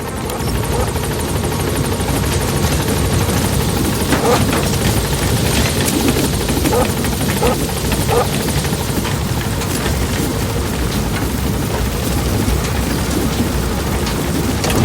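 Helicopter in the Metal Gear Solid V video game, a continuous loud rotor thump and engine drone that holds steady throughout, with no speech.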